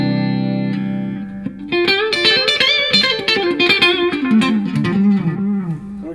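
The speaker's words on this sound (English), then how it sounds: "Here's what this thing sounds with distortion." Distorted electric guitar played through an MXR Carbon Copy analog delay pedal, a sustained chord followed by a run of picked notes with audible repeating echoes, loud and alone.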